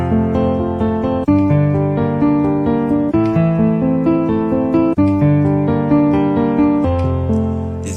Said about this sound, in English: Arpeggio is going to sound like this.